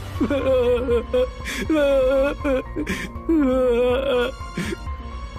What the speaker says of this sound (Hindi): रामू के रोने की आवाज सुनकर जंगल के कई सारे जानवर इधर उधर भागने लगे